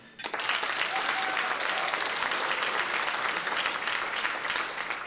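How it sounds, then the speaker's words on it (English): A seminar audience at a student success summit clapping together, a dense, sustained burst of applause that starts abruptly and holds steady to the end. "Okay, all that watch the game, clap your hands"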